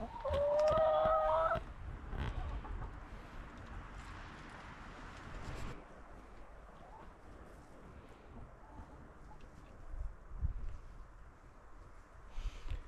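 Chickens cluck and one rooster crows loudly and close at the start inside a goose coop on a farm, followed by quieter clucking, scratching and background rustle.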